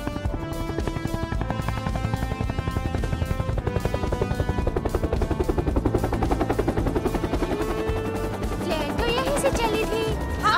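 A cartoon helicopter rendered as a loud, rapid, steady rotor chop that keeps a constant rhythm throughout, mixed with layered background music and effects and no speech.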